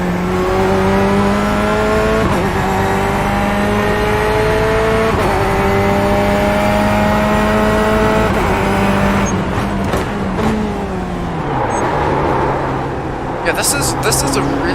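Race car engine from the iRacing simulator, loud and close, climbing through gears in repeated rising sweeps with sharp upshift breaks, then a downshifting slowdown into a corner with tyre scrub, while someone talks over it.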